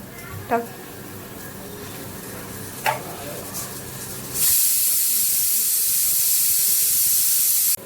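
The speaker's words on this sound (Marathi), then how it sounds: "ह्या इथे मी गूळ थोडा उकळून घेणार आहे पाण्यामध्ये चिंचेच्या पाण्यात" Jaggery boils in tamarind water in a pan for pani puri. A couple of light clinks come first, then a loud, steady bubbling hiss starts partway through and runs unbroken to the end.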